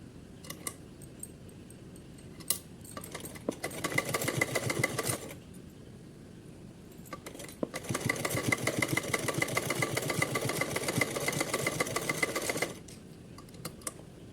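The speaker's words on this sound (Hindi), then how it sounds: "सीधी एक सिलाई लगा लेनी है इसे फोल्ड करके।" An electric sewing machine stitching a folded fabric seam on a small summer dress for a deity figure, running in two bursts of steady rapid whirring with a short pause between and brief taps around them.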